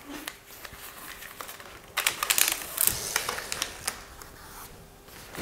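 Large roll of photography backdrop paper being pulled down in a small photo studio, giving a run of close crinkling, rustling and crackling paper noises that swell in the middle and then ease off.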